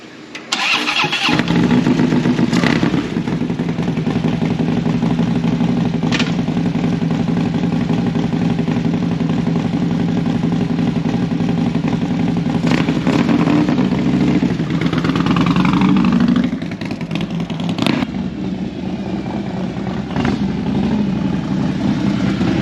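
Harley-Davidson Street Glide motorcycle engine cranking and firing up close by, then settling into a loud, steady, throbbing idle that runs throughout with small shifts in revs.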